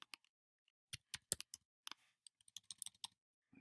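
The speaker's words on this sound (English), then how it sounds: "My typing isn't so good." Typing on a computer keyboard: a run of sharp, close key clicks in uneven bursts with brief pauses, quiet and alone with no voices.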